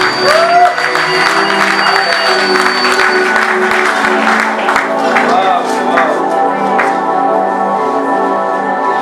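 A church wedding congregation breaks into loud, sustained applause and clapping, with voices and cheering mixed in across the whole stretch.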